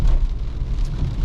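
Steady rain at the tail end of a thunderstorm on a city night in Lille, a dense low rumbling wash of falling water heard close and continuous.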